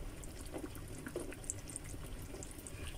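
Vinegar poured from a container into a pot of Kochi-style Dover sole curry, a faint liquid trickle under a steady low background hiss.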